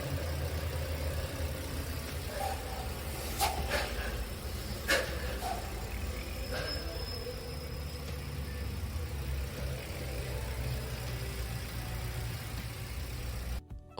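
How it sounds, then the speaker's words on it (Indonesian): A 2019 Toyota Rush S TRD Sportivo automatic idles with a low, steady engine rumble, a few faint clicks and knocks over the continuous hum. "Untuk suara mesin kurang lebih seperti ini."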